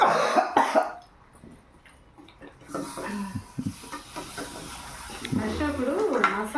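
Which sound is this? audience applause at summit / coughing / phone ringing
coughing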